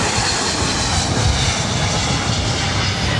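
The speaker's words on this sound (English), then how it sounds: "Atlas Air Queen now rolling on 25 left" Atlas Air Boeing 747 jet rolling for takeoff on runway 25 left at LAX, a loud, steady, broadband engine roar that holds for the whole stretch without fading or pausing.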